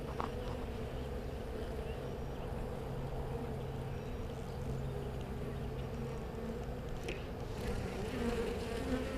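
A steady, dense buzzing of many honeybees close by while a nuc is installed, continuous throughout with a low droning hum underneath.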